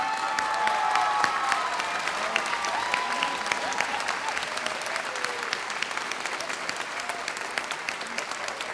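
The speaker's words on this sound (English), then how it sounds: "Please give these individuals a huge round of applause." An evening audience at a Mr BG 2018 event gives a standing round of applause for teachers and staff, a dense, sustained clapping that stays loud and even throughout.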